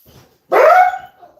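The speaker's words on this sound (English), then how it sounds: "Excuse the dog." A single loud, close bark from a dog indoors during a live stream, short and sharp, with a brief whimpering tail after it and quiet room tone before.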